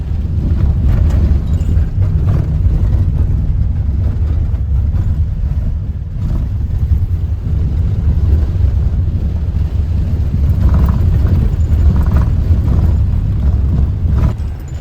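A car crawls slowly over a bumpy, unpaved off-road track through fields in rural Konkan, its engine a steady close drone with rumbling and occasional knocks as it rolls over the rough ground.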